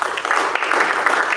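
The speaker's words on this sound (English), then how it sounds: "So round of applause." Applause at a city council meeting: a short burst of steady hand clapping from a small crowd in a meeting room, with no one speaking.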